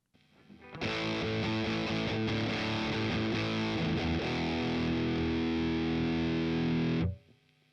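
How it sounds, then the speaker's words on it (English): An electric guitar played through a Boss Katana MK2 amp on its DST Plus distortion setting rings out in heavily distorted chords after a brief quiet start, then sustains loudly before cutting off. "DST plus, so distortion plus."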